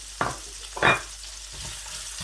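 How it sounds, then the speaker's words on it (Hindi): Onions added to hot oil in a pan alongside chicken, two brief bursts of sizzling and stirring over a low frying hiss. "प्याज जो है वो इस तरीके से बीच में ऐड कर देना है। उसी ऑयल में"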